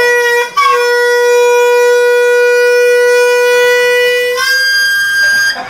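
A loud, steady air horn blares during a prank, a single sustained tonal blast with a short break near the start and a slight wobble toward the end.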